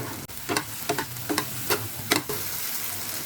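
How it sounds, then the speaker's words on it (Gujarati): A spatula scrapes and stirs finely chopped capsicum and cabbage in a pan for vagharela pav, giving repeated rhythmic scraping strokes over a steady sizzle of frying, with no voices. "શિમલા મિર્ચ છે ઝીણું ચોપિંગ કરેલું એને એડ કરી દઈશું. કોબીજ છે ઝીણી ચોપિંગ કરેલી એને એડ કરી દઈશું અને હવે એને મિક્સ કરી લેશું."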